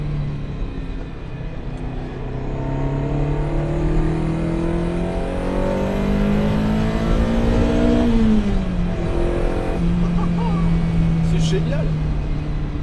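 Ferrari 308 GTB engine intake roars steadily while driving, rising and falling in pitch with revs, loud and close throughout, with a brief easing of the note before climbing again.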